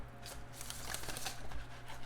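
An oracle card deck being shuffled by hand, a soft, continuous papery rustle and riffle of cards lasting a couple of seconds, close and fairly quiet with no voices.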